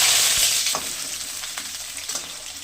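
Potato pieces and lentils frying in hot oil in a pan for masoor dal chorchori, a loud steady sizzle with occasional stirring scrapes, close up with no talking.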